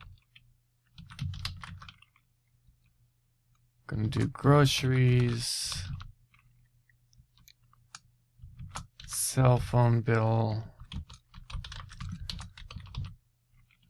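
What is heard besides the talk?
typing on computer keyboard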